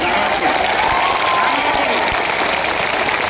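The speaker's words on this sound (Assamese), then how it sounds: "এটা দীঘলীয়া হাত চাপৰিৰে আপোনালোকক অসমবাসীৰ অফুৰন্ত শুভেচ্ছা জ্ঞাপন কৰক" A large crowd at an Assam political rally applauds long and loud, a dense unbroken wash of clapping with a voice faintly underneath.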